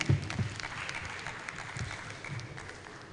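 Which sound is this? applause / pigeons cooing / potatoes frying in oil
applause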